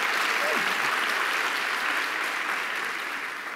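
Audience applause fills a conference hall during an opening speech at a business platform event, a steady dense clapping that carries on throughout and fades slightly toward the end.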